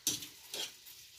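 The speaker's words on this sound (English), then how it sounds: "You just want to keep stirring it because, like I said, if you kind of just stop, it will start to stick" Food stirred in a frying pan, two short scraping strokes with a faint sizzle, close and quiet.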